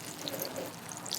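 Water is poured gently onto carrot seeds in a container, a soft trickle that stays faint and steady.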